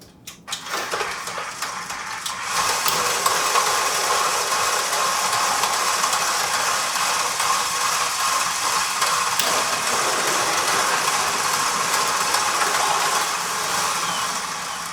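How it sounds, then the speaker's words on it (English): A blowtorch warming butter in a stand mixer bowl, an ignition click and then a steady, loud roaring hiss that holds for most of the clip before easing slightly at the end. "I'm gonna hit it with the blowtorch a few times and be fine"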